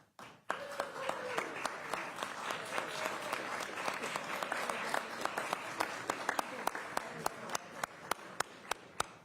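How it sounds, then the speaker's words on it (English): An audience applauds for Lauren of Gaylord College at an Oklahoma Route 66 centennial kickoff event, steady crowd clapping rising after a countdown and lasting throughout, with a few sharper individual claps standing out. "another round of applause for Lauren at Gaylord College"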